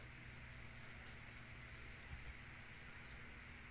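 Continuous hissing spray from a paint can or spray gun coating the engine block of a 1966 Oldsmobile Toronado, steady and close, with faint rhythmic pulses as the nozzle sweeps.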